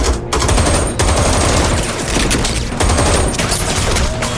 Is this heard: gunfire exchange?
yes